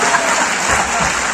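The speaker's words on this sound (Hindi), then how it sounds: "तालियां।" An audience in an auditorium claps during a live comedy show, a dense burst of applause that fills the brief moment, loud and steady with a faint murmur of voices underneath.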